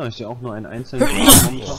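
A person sneezes mid-conversation during a DayZ session, one loud, close, breathy burst after a stretch of German speech, with the voice carrying on around it.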